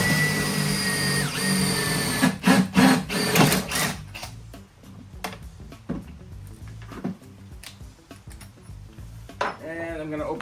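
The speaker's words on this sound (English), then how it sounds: "We're gonna drill a hole here." A power drill with a 3/8-inch bit bores a hole through a street-legal golf cart body for wiring. A whining motor bogs down under load for a few seconds, then gives way to scattered clanks and rattles of handling.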